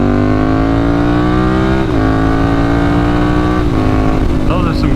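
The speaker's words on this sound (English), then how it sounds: "Those are some good shifts." A motorcycle engine revs steadily while riding home, its pitch climbing and then dropping at two or three gear shifts, loud and close throughout, with occasional talk over the engine.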